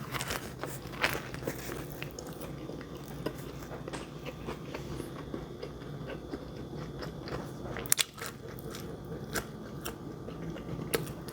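Someone bites and chews a sandwich with crispy bacon, close and fairly quiet, with repeated small crunches and moist chewing over a faint room hum.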